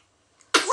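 A one-week-old baby girl sneezes once, a single sharp, close burst that breaks out of near silence and trails off quickly.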